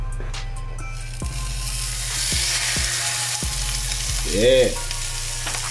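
Shrimp-stuffed cheeseburger patties fry in a pan with a steady broadband sizzle, broken by a few sharp taps and clinks from a spatula or pan, and one brief spoken word partway through.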